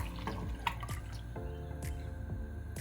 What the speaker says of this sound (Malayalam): അപ്പോൾ ഞാനത് ഒഴിക്കുകയാണേ